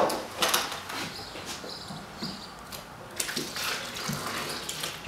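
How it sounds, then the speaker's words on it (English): Soft, uneven splashing and trickling of water poured in short bursts onto grain, fairly close and quiet, with no voices during the pour. "pour a little of that water"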